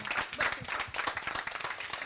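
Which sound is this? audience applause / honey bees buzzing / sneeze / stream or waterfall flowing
audience applause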